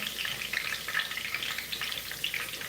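Rosemary and a few basil leaves frying in very hot oil, a loud, steady crackling sizzle with dense popping throughout, close and without voices.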